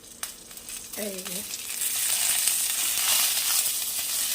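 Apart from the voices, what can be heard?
bhetki fish frying in a pan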